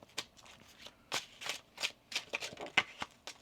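Tarot cards are shuffled close up in a series of quick papery riffles and slaps, irregular bursts of crisp rustling at moderate volume with no talking.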